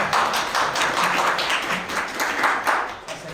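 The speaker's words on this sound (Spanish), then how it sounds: "otro aplauso para Fernando" Audience applause for Fernando at the close of an academic lecture on morality and transitional justice, a dense, steady clapping from a roomful of people that carries on throughout with a slight fade at the end.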